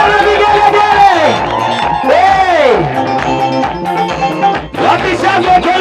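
A lively crowd cheers, whoops and ululates at a land site visit, with loud overlapping voices and rising trilling cries in several waves throughout.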